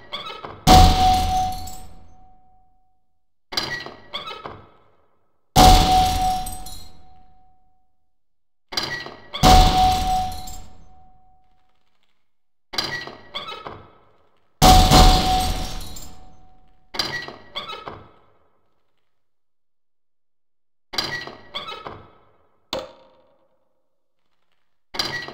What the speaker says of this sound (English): Certain targets will break only when hit by grenades